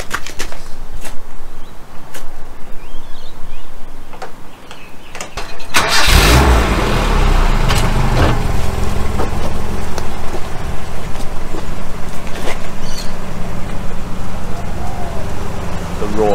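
A 4AG engine in an AE71 car cranks and catches, then idles and revs loudly and close by, with rain-like noise and people talking underneath.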